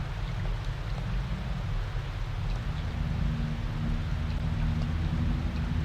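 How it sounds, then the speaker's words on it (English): Acid rain in the video game Secret of Evermore, a dense, steady hiss of falling rain that carries evenly throughout, with a low droning tone joining partway through. "Acid rain."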